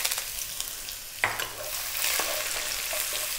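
Garlic and ginger sizzle in hot sunflower oil with a continuous bright crackling hiss that swells slightly after a sharp drop-in sound, close and steady, with no talking.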